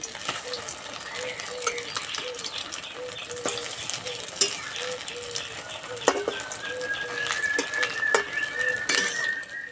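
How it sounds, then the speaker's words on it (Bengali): Semolina-and-egg snack pieces frying in white oil after being flipped, a steady broadband sizzle with a few sharp utensil clinks and scrapes against the pan, close and moderately loud throughout. "এক পিঠ ভাজা হয়ে গেছে, উল্টে দেবো।"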